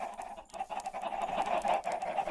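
Chickens cluck steadily in a Minecraft Pixelmon chicken pen, a continuous stream of short bird calls at moderate level with no voices.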